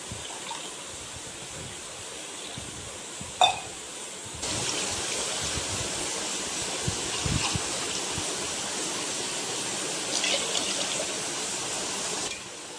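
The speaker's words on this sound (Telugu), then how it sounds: "2 గ్లాసులు వాటర్ వేసుకోవాలి" Water poured from a glass onto sugar in a pot for gulab jamun syrup, a soft hiss that turns into a steadier louder gush partway through, with a brief clatter before it begins.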